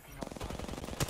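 Rapid automatic gunfire in an online shooter game, a dense run of loud, evenly spaced shots heard close up with no pauses.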